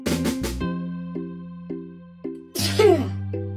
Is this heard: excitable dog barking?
no